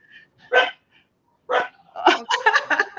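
Dogs bark in a few short, sharp bursts close by, first single barks then a quick cluster of yips and barks in a quiet indoor setting.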